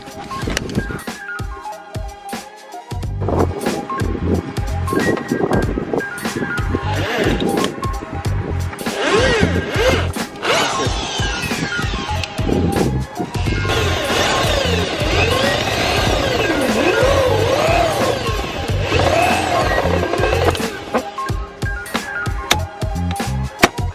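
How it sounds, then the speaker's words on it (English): A power drill bores into a stuck oil filter cap on a BMW, with loud whining drill bursts that start and stop, plus clattering metal and tool noise throughout, close up. "probably drilling it on one of this side and put a screwdriver in and twist it"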